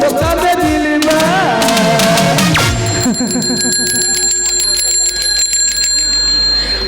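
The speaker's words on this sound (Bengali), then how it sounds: "আমার কলিং বেল শুনতে পাইনি এত করে কলিং বেল বাজাচ্ছি" An electric doorbell rings repeatedly during a Bengali gajan comedy stage performance; loud, bright, sustained chiming tones follow a burst of music and stage noise and carry on for several seconds.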